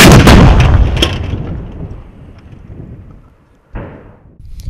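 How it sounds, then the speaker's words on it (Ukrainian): A loud cannon blast during Ukrainian Navy coastal defense training, with Rapira anti-tank guns, opens with a heavy boom and long rumbling decay, then a second sharp report follows a few seconds later. "Гармата!"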